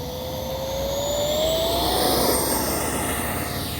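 A FlyFans L-39 camo RC model jet takes off with its flaps set for takeoff, a loud steady turbine roar with a rising whine that swells and holds close by.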